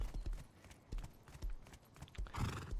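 Hooves of horses at a horse farm in the video game Rust, irregular clip-clop strikes at a walking pace, close and moderately loud, with a brief snort or whinny near the end.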